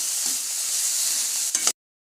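Chopped tomatoes sauté in a pan for a bottle gourd gravy, giving a steady close sizzle with a few stirring scrapes before cutting off abruptly.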